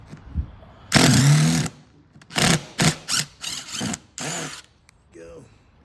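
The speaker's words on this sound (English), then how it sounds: "just like so, drill them out." Power drill boring out old screws along a car's upper belt line, several short whining bursts of varying length separated by pauses, close and loud.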